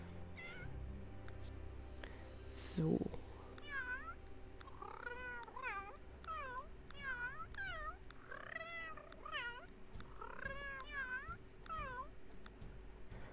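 A friendly cat meowing in The Sims 3, a long run of about a dozen short clear meows at a steady pace over quiet game background, with one brief word of talk early on.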